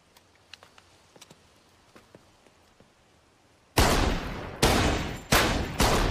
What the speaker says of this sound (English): Okay, you shoot too fast.